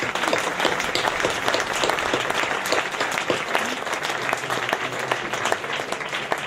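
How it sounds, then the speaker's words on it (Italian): Sustained audience applause at a Sardinian poetry gathering, dense steady clapping from a crowd filling the whole stretch without a break. "io adesso farei un grosso applauso per lui"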